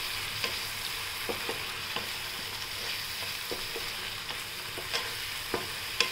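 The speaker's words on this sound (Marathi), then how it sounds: "आता आपण तेल सुटेस तोपर्यंत त्याला चांगलं परतून घेऊ" Rajma masala sautéing in oil in a pan while a spoon stirs it, giving a steady soft sizzle broken by scattered light scraping clicks, with no talking.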